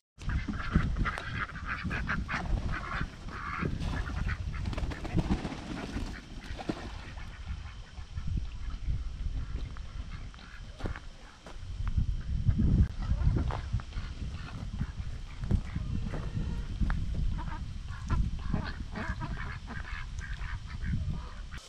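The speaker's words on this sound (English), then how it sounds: "I wanted to leave the ducks inside of that coop overnight" Ducks released from a coop on a homestead, a steady busy chorus of quacks and honking calls that runs through the whole stretch with scuffling outdoor background noise.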